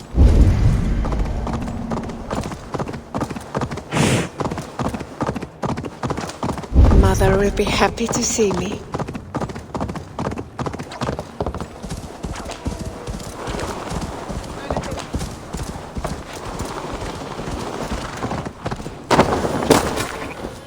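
Horse hooves clip-clop at a steady walking pace in the Viking Age Discovery Tour of Assassin's Creed, continuing for the whole stretch, with a neigh, a few sharp bangs and spoken dialogue mixed in.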